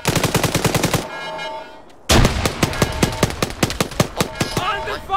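Rapid bursts of machine gun fire in the military shooter ArmA 3, loud and close, a steady stream of shots broken by a short pause before firing resumes.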